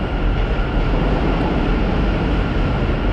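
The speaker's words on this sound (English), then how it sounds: "And another train is passing by off to the right" A New York City subway train passing by on the Lower East Side, a steady loud broadband rumble and roar that holds constant throughout with no voices.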